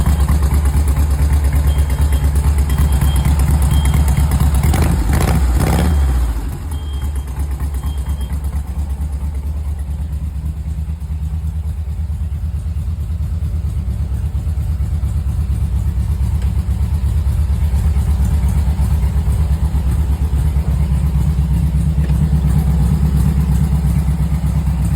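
A 1961 Volkswagen Trail Safari fiberglass dune buggy on the Volkswagen platform, its engine running loud and steady close by for the whole stretch, with a sharp throttle blip early on before settling back to an even idle.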